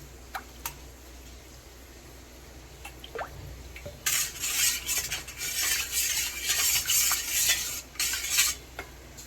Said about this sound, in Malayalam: ഇനി നമുക്ക് റോസ് സിറപ്പ് ചേർക്കാം.